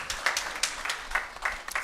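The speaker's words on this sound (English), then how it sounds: "I think a good place to clap" Seminar audience in Dubai claps in short, uneven bursts, a handful of scattered claps rather than a full roar, heard at moderate distance.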